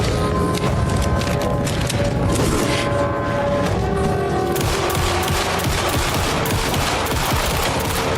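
Sustained automatic gunfire from a gun held on full trigger in Alan Wake 2, a dense, continuous rattling burst that runs loud and unbroken from start to end, with game music tones underneath.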